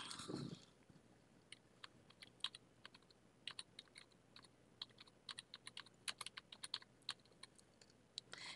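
Typing on a computer keyboard while working in Microsoft Word: irregular bursts of crisp, close key clicks with short pauses between runs, fairly faint against a quiet room, no talking.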